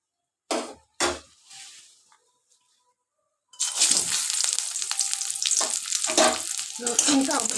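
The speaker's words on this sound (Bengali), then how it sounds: "রসুনটাও ভেজে তুলে নিলাম" Garlic frying in oil in a pan, a loud steady sizzle with stirring scrapes after a few brief knocks and a quiet pause, for a jackfruit seed mash.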